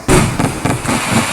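Video game fireworks in a firework playground burst in a rapid loud cluster of crackling pops and booms, several overlapping blasts rolling continuously with no talk.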